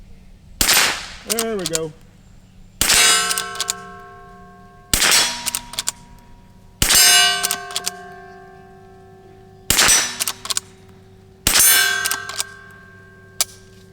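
Shots from a .22 Rossi Rio Bravo polymer lever-action rifle, each sharp crack followed by a ringing clang from a steel target, repeated six times at steady intervals, with a brief spoken phrase early on.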